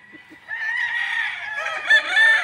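Gamecock stags of the Kelso and Boston Roundhead breeds, one rooster letting out a single loud, close crow that rises and holds for about two seconds after a couple of soft clucks.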